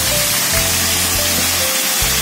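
Water poured into a pan of browned chicken pieces cooking for tongseng gives a steady loud sizzle and hiss, continuous for about two seconds with no talking.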